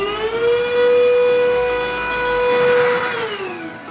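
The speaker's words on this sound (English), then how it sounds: "What about if I just direct vacuum like this?" A Coby UV Dual Power vacuum cleaner runs with a loud, steady whine that holds one pitch, then drops in tone near the end as the suction is applied directly to a surface.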